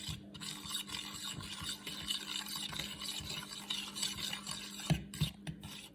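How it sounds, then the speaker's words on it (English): Waffle batter is whisked in a bowl with continuous faint scraping and stirring, plus a few small knocks against the bowl near the end, with no voices. "Mix, mix, mix."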